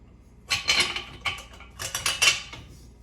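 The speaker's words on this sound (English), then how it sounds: "Now we're going to add a bolt through those to attach" Metal clinks and rattles as a bolt is pushed through a frame to attach a handle, with two bursts of close, clattering taps and scrapes.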